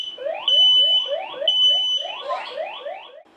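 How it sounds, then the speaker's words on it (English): A kitchen fire alarm set off by cooking smoke, blaring loudly and close with rapid repeating electronic chirps that sweep upward in pitch, continuous for several seconds with no talk. "We had the blinking fire alarms go off in the kitchen."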